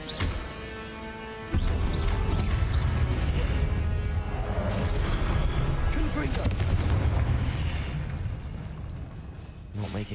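A fiery Confringo spell blast in Hogwarts Legacy erupts with a sudden loud boom, then rumbles on as a dense, sustained crackle of magical destruction, underscored by game music and sound effects.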